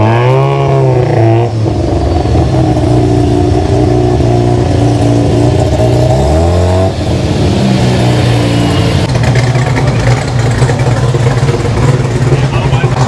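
Turbocharged Mazda 13B rotary engine revving loud and close, its buzzing tone rising and falling through several long pulls and holds, with people talking over it.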